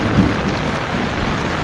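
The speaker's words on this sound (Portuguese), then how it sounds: "Meu amigo Clécio, tá chovendo aí, Clécio?" Heavy rain in Maceió, Brazil, pours down in a dense, loud roar, with a deep low rumble underneath; no voices, just the steady downpour.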